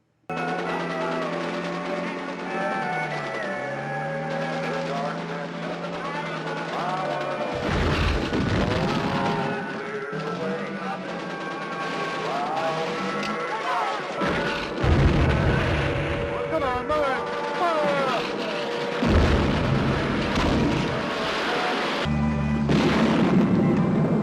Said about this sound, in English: These tanks drive slowly up and destroy everything in front of them